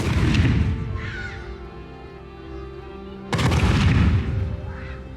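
Fireworks launch with a sharp whoosh and a heavy thud, followed after a pause by a second loud, close burst that trails off.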